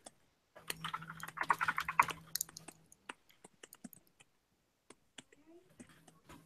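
Someone types on a computer keyboard with quiet, quick clusters of clicks, and the keystrokes thin out into scattered single taps. There is a faint background hum and no talk over it.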